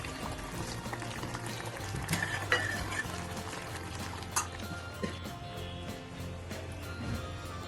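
Horse gram curry bubbles steadily in a pot while a spoon stirs through it, with wet churning and occasional clinks against the pot. There is no talk.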